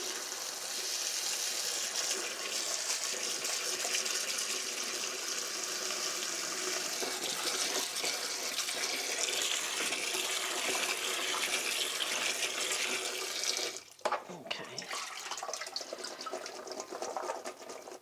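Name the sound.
rinsing food under running tap water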